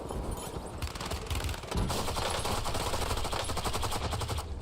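Sustained automatic gunfire in the video game Call of Duty: Warzone, dense rapid bursts of shots continuing loudly throughout with no pause, heard through game audio.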